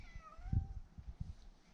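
An orange cat meows several times in a barn under conversion, short wavering cries close by against a quiet background.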